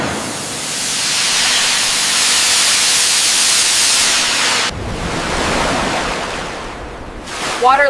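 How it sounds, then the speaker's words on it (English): Seawater surges into the flooded well dock of an amphibious assault ship, a loud, dense rushing hiss of pouring water that shifts abruptly midway, with a voice briefly at the end. "this dock can open its gates and flood itself with seawater"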